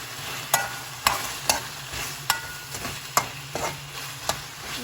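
Stir-fried vegetables for chop suey sizzle in a pan, with a string of about eight crisp utensil scrapes landing roughly every half second over a constant frying hiss, and no speech.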